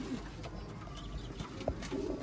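Healthy Sialkoti breed pigeons coo softly in a coop, with low murmuring calls and a few faint chirps over quiet background noise.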